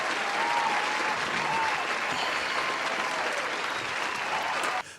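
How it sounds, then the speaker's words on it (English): A podcast studio audience bursts into a sustained round of applause, dense and steady for about five seconds before cutting off abruptly. "give me a round of applause."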